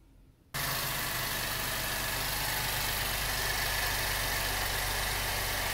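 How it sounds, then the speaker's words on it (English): A GM 3.6 liter V6 idles steadily after starting, a loud, even engine drone with a low rumble that runs alone to the end. "Motor's running."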